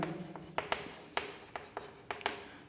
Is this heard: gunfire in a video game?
no